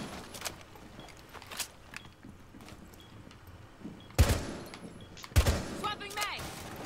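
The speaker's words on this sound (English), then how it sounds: "he's using an LMG" Automatic LMG fire in the Rainbow Six Siege video game: two loud bursts, scattered sharp shots and clatter over a quiet game background.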